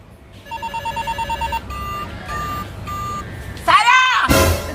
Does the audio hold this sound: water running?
no